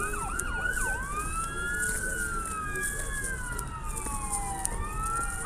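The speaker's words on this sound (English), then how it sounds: "sounds like they're coming over here this way. Oh, it's an ambulance." Ambulance siren wailing on a freeway, its rising and falling tone sweeping steadily over road traffic noise, moderately distant and continuous for the whole stretch.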